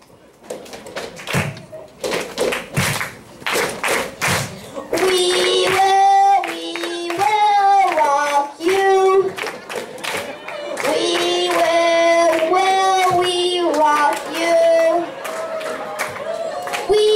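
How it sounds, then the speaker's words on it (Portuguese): An audience on a talent-show stage claps for a rock singer contestant, with scattered bursts of applause at the start, followed by a loud amplified voice singing or talking over the crowd. "Plateia, ele veio cantar rock! Uma salva de palmas!"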